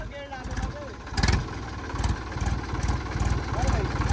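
A farm tractor idles nearby with a pulsing low chug that steadily repeats and swells slightly louder midway and near the end, while people talk over it.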